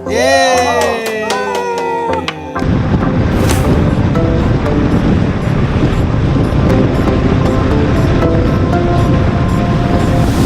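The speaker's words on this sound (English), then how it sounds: "today there are very strong winds. Look at these waves." Strong ocean surf churned by high wind at the Ritz-Carlton on Maui, Hawaii: a loud, continuous roar of crashing waves and gusts that takes over after a few seconds of excited voices.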